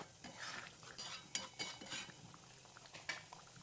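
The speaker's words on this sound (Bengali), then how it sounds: "দিয়ে দেওয়ার পর আবার ভালো করে মিশিয়ে নেব" Potol (pointed gourd) curry with mustard and peanuts being stirred and mixed in a pan, with irregular scraping and clinking of a utensil against the pan and soft simmering underneath, no voices.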